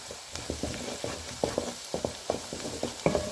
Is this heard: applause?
no